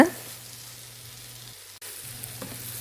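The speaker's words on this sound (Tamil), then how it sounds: "இதை நல்லா நம்ம வதக்கி விட்டுட்டு ஒரு 10 நிமிஷம் பக்கம் நல்லா மூடி வச்சிடலாம்." Mutton lungs sauté in a pan with a steady close sizzle that runs throughout, a brief drop near the middle, then the frying resumes.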